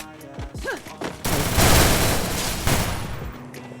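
Gunfire in the Garena Free Fire video game: after a brief voice, a dense rattling volley of shots bursts in and continues for about two seconds, loud and close, then fades.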